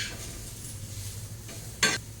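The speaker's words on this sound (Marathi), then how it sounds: "पाहू शकता तुम्ही कांदा आपला मस्तपैकी खरपूस भाजून होत आहे" Onion roasts and sizzles in a pan while baingan bharta (vangyache bharit) is being made. The soft hiss runs steadily, and a brief louder burst of crackle comes near the end.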